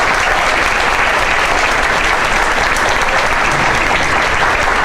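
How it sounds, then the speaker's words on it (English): A large crowd at a grassroots organizing session applauds precinct chairs, dense continuous clapping that stays loud and even throughout with no pauses or speech over it. "y'all just get a big round of applause"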